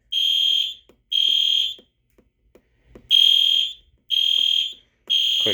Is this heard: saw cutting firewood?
no